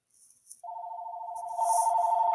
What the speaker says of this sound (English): Yeah, that was a phone.